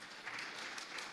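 Brief burst of audience applause at a heads-of-state summit, a dense, even patter of many hands, faint and distant, lasting about a second.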